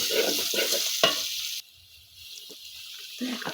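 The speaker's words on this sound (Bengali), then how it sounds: "সেগুলোকে ভালো করে নাড়াচাড়া করে নেব মশলাগুলো" Spices, including black cumin and ground spice paste, stirred and sizzling in a hot pan for khichuri; a loud scraping fry for the first second and a half, then a much quieter crackle with a few soft stirs.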